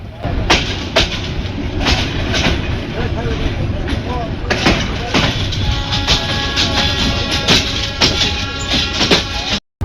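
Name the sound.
Mohanganj Express train entering Mymensingh railway junction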